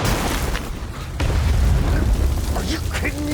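Big film-set explosions blowing up a forest, with deep booming rumbles and a sharp blast near the middle, under a voice talking.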